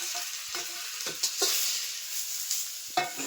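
Tomatoes go into onions frying in a pan for a paneer masala: a bright, hissing sizzle runs throughout, broken by short scraping stirs and a few louder spits.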